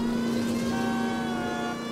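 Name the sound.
police car siren in L.A. Noire video game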